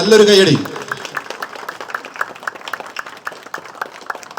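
Applause from an audience at a film title launch event in Thodupuzha, many hands clapping in a steady rapid patter after a brief spoken announcement.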